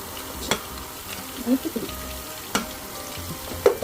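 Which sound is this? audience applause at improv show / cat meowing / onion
onion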